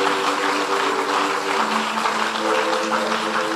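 A large audience applauds loudly and steadily throughout, a dense wash of clapping with no pauses.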